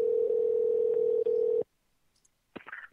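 A steady telephone dial tone hums loudly for about a second and a half while a call is placed back on a phone line, then cuts off abruptly into near silence, followed by a brief faint crackle.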